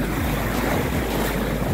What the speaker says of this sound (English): Big wave. All the kids. Big wave.